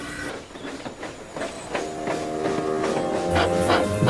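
A steam train engine puffs away in a rhythmic chuffing sound effect, repeated soft hissy bursts over a rolling mechanical rumble, moderately loud and getting busier toward the end.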